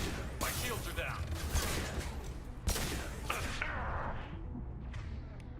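Video-game weapons fire in a space setting, with a series of sharp bursts and thuds over a dense, noisy backdrop, loud at first, then thinning out near the end.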